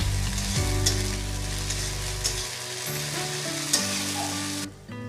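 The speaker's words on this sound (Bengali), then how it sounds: "ভালো করে আলুর সাথে কষিয়ে নেব, যাতে আদা, পেঁয়াজ, রসুনের কাঁচা গন্ধটা না থাকে।" Ginger, onion and garlic paste sear with potatoes in rendered mutton fat for ghugni, a loud dense sizzle with stirring scrapes and a low background hum that cuts off near the end.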